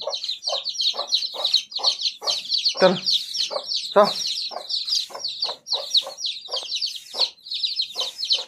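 Chickens cluck repeatedly in a busy, overlapping flock at bedtime, close by and fairly loud, with a brief voice calling out once.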